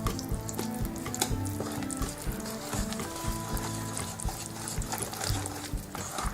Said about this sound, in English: we'll use a spoon to mix it together. I got a little wooden spoon here